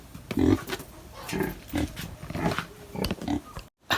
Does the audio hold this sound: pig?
yes